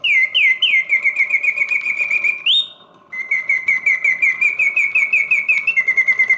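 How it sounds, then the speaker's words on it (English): A rare Japanese mechanical singing bird automaton warbles loud, close and alone, repeating rapid oscillating whistled chirps in a steady pulsing rhythm, breaking off briefly for a short pause before resuming the same song. "The bird sings with full voice"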